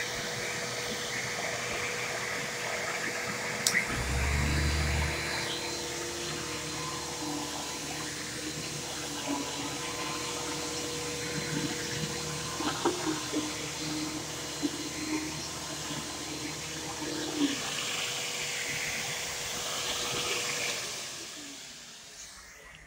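Bissell and Dirt Devil vacuum cleaner motors run as a steady, near whine and roar that lasts the whole stretch, with a brief low thump early on and the noise tapering off near the end.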